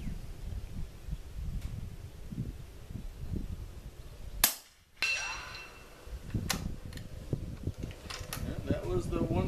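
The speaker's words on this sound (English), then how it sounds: "So we're going to shoot the 190 grain, and the next shot will be the 203 to see sound comparison." A single sharp rifle shot from a 300 AAC Blackout firing a 190 grain load rings out midway, loud and close, over steady outdoor background noise and some talking.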